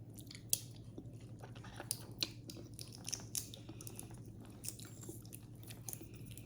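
Balut, a boiled duck egg with embryo, is chewed close up in soft, wet mouthfuls with small crunchy bites and clicks, quiet and irregular against a low background hum.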